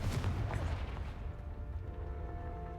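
A Confringo fire spell bursts in Hogwarts Legacy, cast against spiders in a cave: a loud, rumbling blast that fades into a low, lingering roar with no talk over it.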